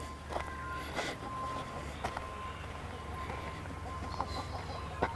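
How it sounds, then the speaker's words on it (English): Ducks at Mount Lofty Botanic Gardens in the Adelaide Hills give scattered quacks and clucking calls, with a few sharper calls standing out over steady outdoor background noise. "let's go visit the ducks a bit, the local wildlife."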